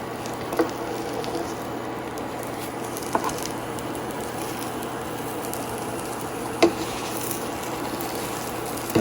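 A cheese omelette frying in a pan over Maggi noodles gives a steady, low sizzle throughout, with a few small pops and taps, heard close up without talk.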